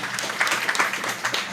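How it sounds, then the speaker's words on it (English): Scattered clapping from a seminar audience at a drug sensitization event, fairly light and uneven over a brief stretch with no voices on top. "Let's give him a clap."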